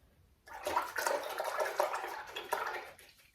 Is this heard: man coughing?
no